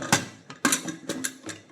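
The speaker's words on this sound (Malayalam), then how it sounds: "പ്രഷർ കുക്കർ അടയ്ക്കുക." Clicking, ratcheting clacks of a pressure cooker lid being closed while cooking a pumpkin erissery, four or five close, crisp metallic clicks in quick succession.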